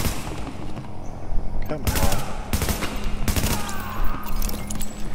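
A gun turret fires bursts in a video game during hard-mode daily runs, with sharp rapid volleys at close range layered over a steady background hum, and someone talks briefly over the shooting.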